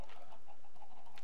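Chickens in the video game Minecraft cluck softly in a short run of quiet, repeated clucks, with no talking over them.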